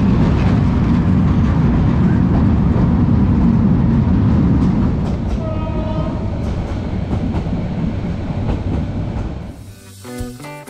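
The Cox's Bazar Express rolls across the Kalurghat bridge in fog, heard from inside as a loud, continuous rumble of wheels and carriages with light clicking, fading near the end as music comes in.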